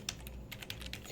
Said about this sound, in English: I'll just press H on my keyboard and that's hidden.